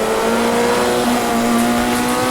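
A Formula Junior race car's engine in the AMS2 racing game drones loudly and steadily close by, its tone shifting slightly as the car goes down through the gears.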